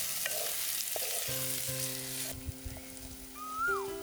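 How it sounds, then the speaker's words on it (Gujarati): Yellow capsicum roasting in a hot pan for veg manchurian gives a steady sizzling hiss for about two seconds, then the frying noise drops away and a few soft tones and light clinks remain. "પીળા કેપ્સિકમ ઉમેરીશું। થોડું શેકાવા દઈશું।"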